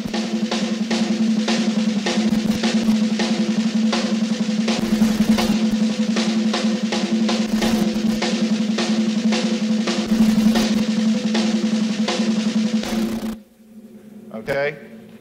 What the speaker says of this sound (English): I'm going to do four measures of the single, four of the double, and four of the triple